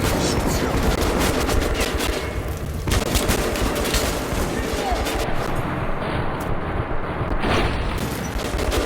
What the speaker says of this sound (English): you could have expected they have machine guns